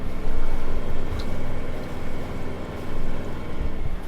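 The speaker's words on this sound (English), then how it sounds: "the amazing thing is this engine has been on for 14 hours today" A sailing yacht's engine runs while the boat motors at sea between the Isle of Man and Largs in Scotland. A steady, rumbling low drone comes with gusts of wind buffeting the microphone, and no one speaks.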